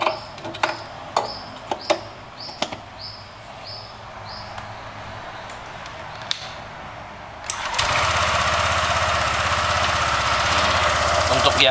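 Honda Vario 150 scooter engine after a TCI driver install: a few sharp clicks and short starter attempts, then the engine catches and settles into a steady, loud, close idle.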